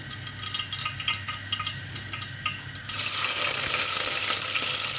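Oil poured into a hot pan for cooking shrimp with vegetable stalks starts as a mild crackle, then jumps to a steady, loud, close sizzle.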